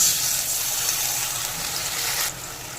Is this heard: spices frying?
yes